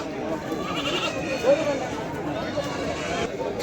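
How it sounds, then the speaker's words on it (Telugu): Goats and young kids bleat now and then at a busy weekly sheep and goat market in Kadiri, Andhra Pradesh, with people talking throughout. "మేక పిల్లలు కూడా వచ్చినాయి ఫ్రెండ్స్ మేకలతో అయితే కిక్కిరిసిపోతుంది ఈరోజు సంత"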